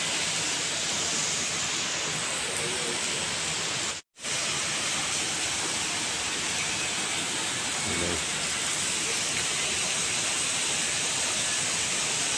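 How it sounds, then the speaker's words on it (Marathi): Steady rain falls at Tipshi railway station on the Konkan line, a dense continuous hiss that stays even throughout, with one brief dropout partway through and no talk. "पाऊस पडतोय."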